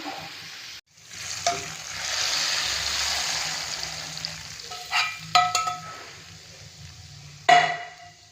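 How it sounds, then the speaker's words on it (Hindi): Hot oil tempering sizzles loudly as it is poured into a yellow moong dal curry, followed by spoon scrapes and clinks against the pot while stirring. "जो तड़का है वो रेडी हो गया है। अब हम इसको पूरे सालन में मिक्स करेंगे।"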